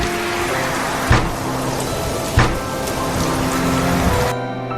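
Heavy rain pours steadily and loudly on surfaces, with a couple of brief louder thumps and a sudden drop in level near the end.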